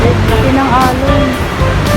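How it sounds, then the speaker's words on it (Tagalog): Big ocean surf breaking at the Cloud 9 break in General Luna, Siargao: a loud, continuous broadband wash of waves running under a person talking nearby. "Yan, ang lalaki ng mga alon, oh."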